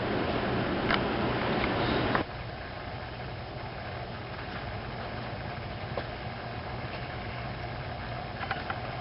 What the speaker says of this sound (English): I'm going to try it on my bandsaw, see how that does